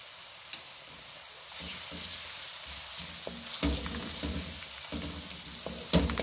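Garlic sizzles quietly in hot oil, with a soft steady crackle and occasional clinks from stirring.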